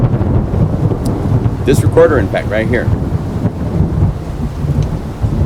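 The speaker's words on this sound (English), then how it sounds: "Monster Rain and Thunder." Heavy rain and thunder near Arenal volcano in Costa Rica, a steady loud downpour with rumbling thunder underneath while someone talks over it.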